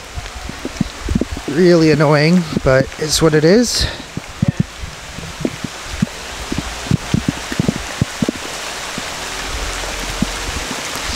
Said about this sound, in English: Damn, guys, it is pouring right now.